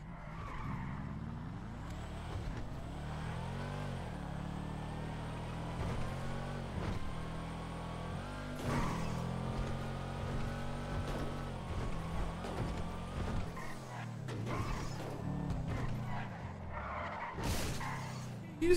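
Fast car in a video game roleplay server, engine note rising and falling through gear shifts with occasional tire squeal and skids, steady at moderate level over about nineteen seconds, faint talk mixed in.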